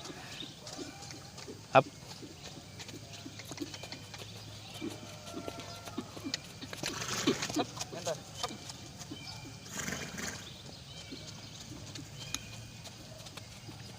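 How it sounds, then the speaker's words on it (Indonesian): A horse canters on a lunge line around a slippery riding field, its hoofbeats rhythmic and moderately distant, with occasional snorts while a trainer speaks and calls out. "ini sudah mulai canter"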